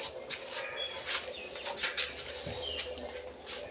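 A hen clucks among other birds at a home aviary, short soft calls scattered over a low, faint background, with cooing and light fluttering mixed in and no talking.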